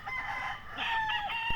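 Rooster crowing at close range on a Filipino backyard farm with mixed-bloodline chickens including hatch and lemon types, one long drawn-out call, with other fowl clucking faintly around it and no talking.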